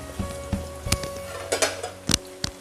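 Curry leaves sizzle with onion and garlic in hot oil for a dal tempering, stirred with sharp metal clinks of a spoon against the pan over a soft, ongoing fry.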